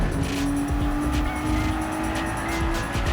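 Nissan GT-R racing at the Nurburgring in Gran Turismo 7, its engine droning steadily with a sustained tone and faint tyre squeal through a braking section, loud and continuous with no talk.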